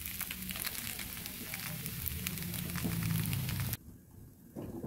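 Sago pearls frying in a pan for sabur payesh, a dense continuous crackling sizzle that cuts off abruptly near the end.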